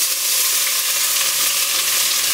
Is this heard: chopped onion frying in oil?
yes